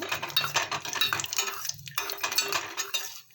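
Cashews and coconut pieces frying together in a pan for a payasam, with close metallic clinks and scraping of a spoon turning them, steady and busy with a brief lull midway, no voices.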